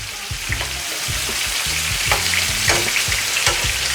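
Chicken pieces frying in a pan after a flip produce a steady loud sizzle, punctuated by repeated soft knocks and scrapes of a utensil against the pan.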